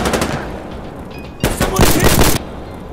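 Gunfire from an SKS rifle in the video game Insurgency Sandstorm: shots crack out amid ongoing battle noise, with a louder burst of rapid reports clustered near the end, fairly close and harsh.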